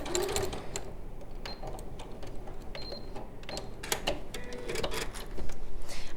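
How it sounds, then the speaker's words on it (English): A sewing machine stitches pen slots along drawn lines, a close steady mechanical whirring with rapid ticking needle strokes, briefly pausing and restarting, a few sharp clicks mixed in. "we're just going to stitch along those friction pen lines that we drew earlier"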